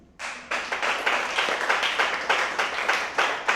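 Church congregation applauding a brother named Alexandre, a sudden loud wave of clapping from many people, sustained and even, with rhythmic peaks, close and full.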